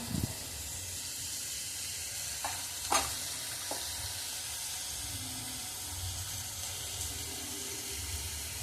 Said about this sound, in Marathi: मी आता त्याला हलवून घेते. गॅस जरा फास्ट ठेवायचा.